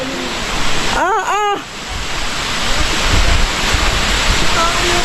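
Steady rushing water from Aw-asen Falls in Ilocos Sur roars without a break, close and loud, while a short whistle-like call or voice rises briefly early on.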